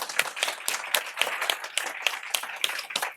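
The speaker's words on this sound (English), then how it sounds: "A big round of applause," Audience applause at a talk on work-life balance: a steady round of rapid clapping from a modest crowd, fairly close, continuous for about three seconds with no speech over it.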